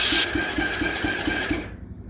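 A Coolster 125cc ATV engine turns over, a rhythmic pulsing crank of about seven quick chugs that stops abruptly. It sounds close, with no talking during the cranking.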